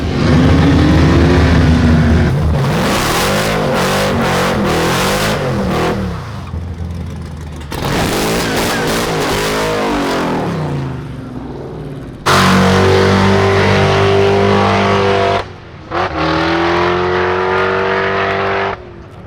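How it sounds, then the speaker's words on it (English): A Hellcat-swapped Dodge Magnum races, its engine roaring loud and close through hard accelerating pulls with brief lifts between gear changes, the pitch climbing and dropping repeatedly. "He's gonna race Colette, hopefully."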